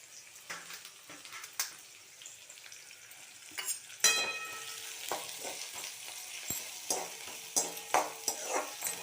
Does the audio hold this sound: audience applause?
no